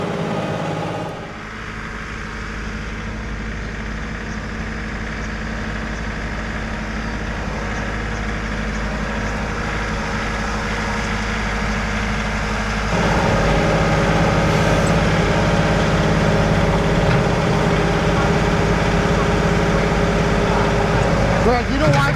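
A loader's diesel engine, idled up to speed the bucket's hydraulics, runs as a steady rumble under talking, then steps up clearly louder about halfway through and holds at the higher pitch.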